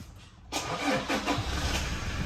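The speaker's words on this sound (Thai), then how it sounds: "นี่รถสตาร์ทติดปกตินะครับ" A 2018 Toyota Hilux Revo Rocco with a 2.8 diesel engine, automatic and 4WD, cranks and catches after a brief quiet moment, then settles into a steady, close, rumbling idle.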